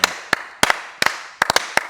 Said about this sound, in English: Years ago, I perfected the clap.